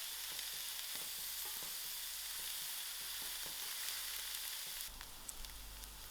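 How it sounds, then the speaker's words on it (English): Onions and butter fry in a pan with a steady, soft sizzle and faint crackles, occasional stirring taps, the tone shifting slightly near the end, with no talking. "I just added my onions, and for my onions I'm going to throw in my butter. Allow this to fry to soft."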